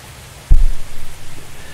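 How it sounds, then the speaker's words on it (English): Rain from a storm in the airport-control video game Airport Madness 3D at SFO cuts in abruptly as a loud, even hiss of falling water and holds steady to the end. "The sound of rain seems familiar to me."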